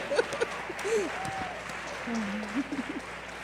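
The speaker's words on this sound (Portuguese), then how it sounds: "And that is worth applauding." An audience applauds at the opening of an international forum, the broad clapping running beneath a speaking voice that carries over it.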